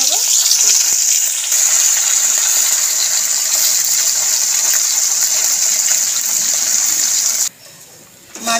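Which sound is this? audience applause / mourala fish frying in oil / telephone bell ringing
mourala fish frying in oil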